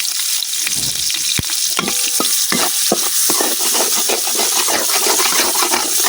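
Onion and green chilies sizzling loudly in hot oil in a wok, a constant close frying hiss broken by scattered pops and the scrape of stirring.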